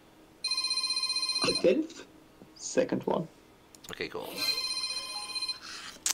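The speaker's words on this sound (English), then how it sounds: "Goddamn phone." A telephone rings in repeated bursts of bright electronic trilling, one long ring followed by another, with people talking between and over the rings.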